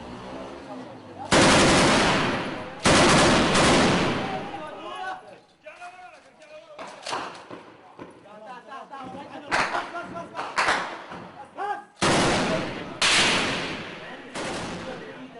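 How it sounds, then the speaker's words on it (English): Bursts of automatic gunfire ring out during a firefight involving Syrian rebel fighters, loud rapid volleys alternating with quieter stretches where scattered shots and voices are heard. "Soon, a firefight begins."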